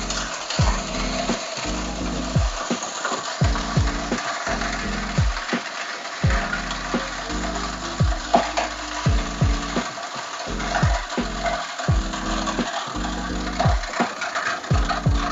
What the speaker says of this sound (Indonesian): Mesin ini masih tetap akan berputar. Dia pelan-pelan akan melambat